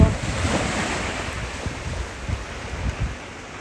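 Sea waves wash in on a breezy shore, close and continuous, with soft rhythmic surges and wind buffeting the microphone.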